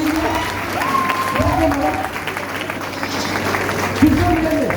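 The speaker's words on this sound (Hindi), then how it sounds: "उनके लिए एक बार खड़े होकर जोरदार ताली कर दीजिए।" An audience claps, filling the room with a steady wash of applause, while a voice speaks over it throughout.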